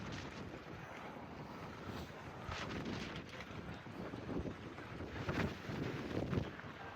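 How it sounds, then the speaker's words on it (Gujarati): Strong wind buffets the microphone on the open hilltop at Edinburgh Castle in Scotland, a steady, loud rumble and roar with gusts swelling toward the end and no voices. "પવન બહુ વધારે અહીંયા લાગે છે કારણ કે ખુલ્લો એરિયો છે."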